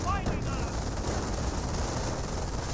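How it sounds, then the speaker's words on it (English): Nebelwerfer rocket barrage in Company of Heroes, a dense continuous roar of overlapping blasts and crackling explosions filling the whole stretch, loud and unbroken. "Full Nebelwerfer has been pulled on the field. Getting 3 kills for his first barrage."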